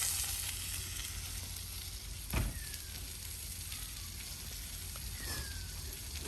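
Food sizzles steadily in a hot pan on a CampQube grill during backyard cooking, a constant broadband frying hiss with one brief louder crackle, heard alone without talk.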